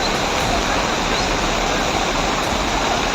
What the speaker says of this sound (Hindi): पहाड़ी की ओर से तेज रफ्तार में पानी नीचे की ओर आता दिख रहा है।